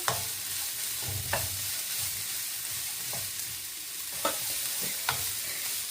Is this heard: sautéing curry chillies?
yes